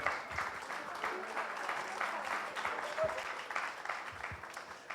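A crowd at a book launch for Twinkle Khanna's Welcome To Paradise applauds in a steady, moderate wash of clapping, slightly distant, with voices murmuring underneath.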